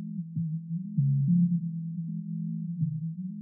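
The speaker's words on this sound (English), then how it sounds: "You just boost up stuff and you do some sweep and listen to each frequency" A pure sine test tone from a FabFilter EQ plugin hums at low pitch, stepping and wobbling between nearby frequencies as it is swept, steady and faint with nothing else audible.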